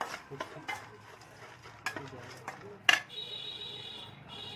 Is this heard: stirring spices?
yes